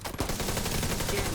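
A short, dense burst of rapid automatic gunfire in a video game, loud and continuous.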